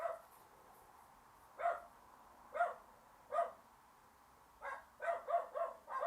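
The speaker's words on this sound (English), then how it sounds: "Dogs barking." Dogs bark indoors in short, separate outbursts, with a few single barks spaced out and then a quick run of four or five, heard moderately close against a quiet background.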